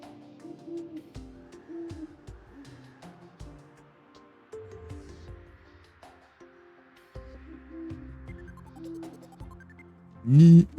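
Owl hooting in the Terraria video game, a few soft tonal hoots over game music, with a louder burst near the end.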